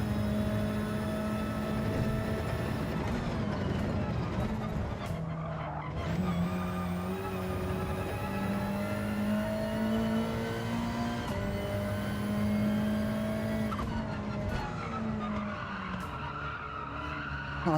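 Tyres screech as a Hyundai Elantra BTCC race car slides through corners in Gran Turismo 7, with a steady engine drone underneath and long squealing slides rising and falling over nearly twenty seconds.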